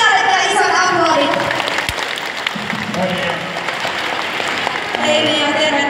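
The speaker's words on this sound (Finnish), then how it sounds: "Annetaanpa Nealle vielä isot aplodit" An audience at a live stage show claps for a participant named Nea, with broad, steady applause running throughout while voices talk over it.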